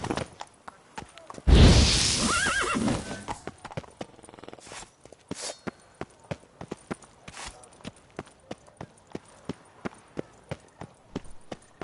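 Horse from The Witcher 3 game gives a loud whinny near the start, then hooves clip-clop in a steady, repeating rhythm throughout, close and clear.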